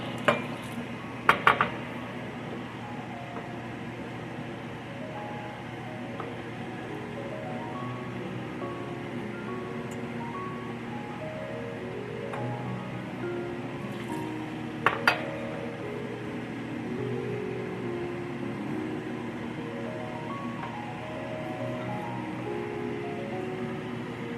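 Milk poured little by little into melted butter and stirred, a steady low swishing with a few spoon clinks against the pot early on and again midway, close and continuous.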